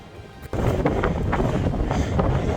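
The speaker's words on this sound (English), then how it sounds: "I hope you can hear me over the wind." Strong wind buffets a microphone outdoors on a cold, windy day in open mountain country, a loud continuous low rumble that jumps up suddenly after a quieter start and keeps roaring with gusty swells.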